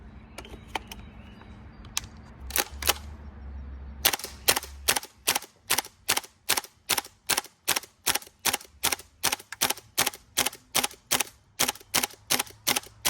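A gas blowback FAMAS airsoft rifle fires a long string of sharp, evenly spaced shots, each a crisp crack with a mechanical snap, steady and close after a few scattered early pops and handling noise.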